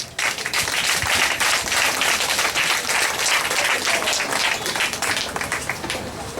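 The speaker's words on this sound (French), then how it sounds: "je vous demande une fois encore d'applaudir, d'applaudir, d'applaudir pour vous-même." Dense, sustained applause from a large gathering celebrating a 90th birthday, loud and steady throughout with a few voices mixed into the clapping.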